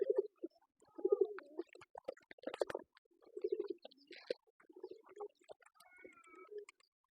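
Pigeons coo in several low, throaty bursts close by, with brief pauses between calls and a few sharper fluttery sounds mixed in.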